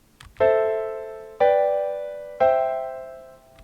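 Three sustained inverted keyboard chords are struck one after another at an even pace, each ringing out and slowly decaying before the next.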